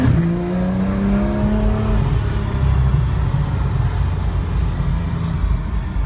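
A 2015 Porsche 911 GT3 in Signal Green accelerates hard, its engine note climbing in pitch over the first couple of seconds before settling into a loud, steady roar heard from inside the car.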